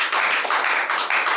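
Young adults in a church youth service clapping as a group, a continuous rippling patter of hands held at even strength throughout.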